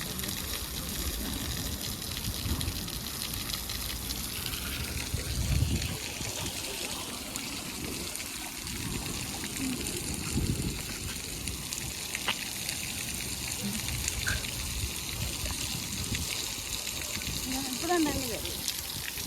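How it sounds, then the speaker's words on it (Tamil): Running water trickles and splashes in Milliken Park in Scarborough, Canada, on a summer day, a steady babbling stream heard close with faint voices and outdoor sounds in the background. "இப்பதான் தண்ணி வருது."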